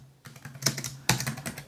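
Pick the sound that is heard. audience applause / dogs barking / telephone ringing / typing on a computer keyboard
typing on a computer keyboard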